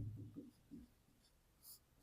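Soft pen strokes on paper while working a math problem, a few short scratchy bursts close to the microphone, very quiet and with no talk.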